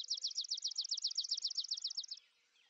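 A swamp sparrow sings a trilled song, a fast, evenly repeated run of about twenty bright, clear chirped notes lasting around two seconds, heard alone and fairly close, then stopping abruptly into quiet.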